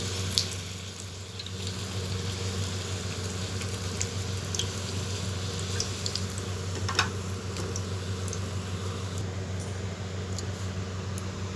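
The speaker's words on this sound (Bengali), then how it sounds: "নানপুরিগুলোকে ভেজে নেব। তেলটা অনেকটা গরম হয়ে গেছে।" Nan puri deep-frying in hot oil, a steady low bubbling sizzle that runs the whole time with occasional small pops, close and continuous with no voices.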